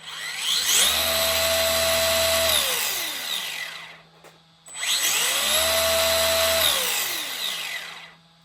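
A Tamiya Hornet 1980s RC buggy on a 3S battery revs its wheels off the ground in two long bursts, a loud whining electric motor and drivetrain spinning up, holding, then winding down, with a short pause between.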